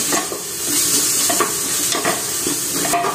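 Food fries in a pan in a home kitchen, a steady sizzle broken by repeated scraping and clinking strokes as a spoon stirs it close by.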